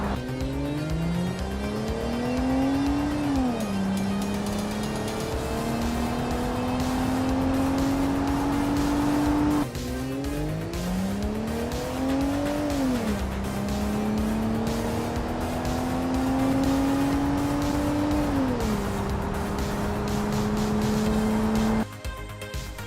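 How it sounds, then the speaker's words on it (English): A car accelerating hard to 100 km/h during a tire grip test, its engine loud and close, pitch climbing through each gear with sharp drops at the shifts, in two back-to-back runs. "Let's first compare these cars in acceleration to 100 km/h."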